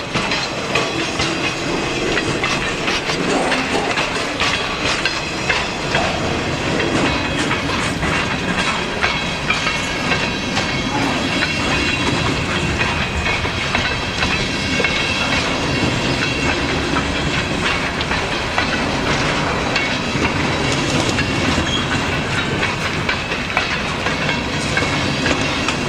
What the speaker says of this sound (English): Kind of gives you an idea how long this train is.